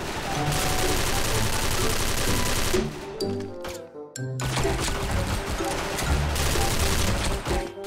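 A Frankenstein XM8 rifle fires in the shooter game SF. Sustained rapid bursts run loud and dense, break off briefly midway with clicks and tinkling, then resume at full volume.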